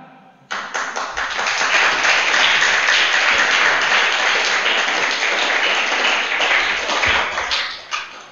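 A church congregation applauding in a sustained burst of clapping that starts abruptly, holds steady and loud for several seconds, then tapers at the end, with no talk over it.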